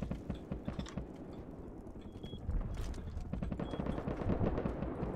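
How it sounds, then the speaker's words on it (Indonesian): Gunfire in the online survival game Rust, rapid mechanical bursts of shots in steady clattering volleys at mid distance, continuing through the clip and growing louder toward the end. "Ada orang tembak"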